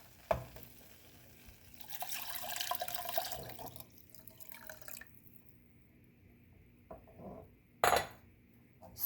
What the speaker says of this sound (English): I'm going to go ahead and throw in 3 cups of water.